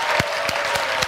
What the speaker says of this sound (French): Acclamation pour toutes ses œuvres.